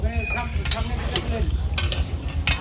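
Kalabhuna meat from Rajshahi being stirred and fried in a large pot, a steady loud sizzle broken by repeated scraping strokes of the spoon, close and continuous.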